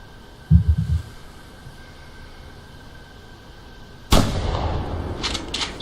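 A single gunshot from the hunting video game theHunter cracks sharply and loudly, followed by a noisy decaying tail, after a short thump earlier in a quiet scene.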